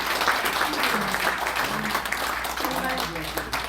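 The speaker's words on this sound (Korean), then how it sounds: "박수를 주셔야 할 것 같습니다." Audience applause at a memorial and farewell gathering, dense clapping running the whole time with a voice talking over it.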